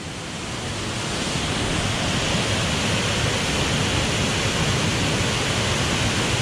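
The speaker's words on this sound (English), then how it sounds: "The waterfall." A waterfall in rainy Yorkshire pours in a dense, unbroken rushing roar, loud and close, rising slightly at the start and then holding steady.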